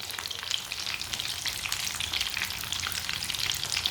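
Egg kebabs sizzle and fry steadily as they brown in a frying pan with a little oil, a dense, even crackle throughout with no talking.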